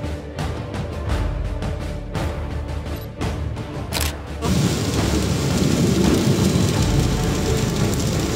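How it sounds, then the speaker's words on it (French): Heavy rain during a thunderstorm, heard from inside a car, drums steadily on the roof, and a sharp crack of thunder or a strong impact stands out loud and close near the middle. "dans ce nouvel orage là qu'on traverse, et il envoie, hein, niveau impact"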